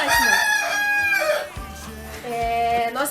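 Chickens and a rooster at a poultry farm shed, with loud repeated crowing and clucking close by, dense overlapping calls filling the space throughout.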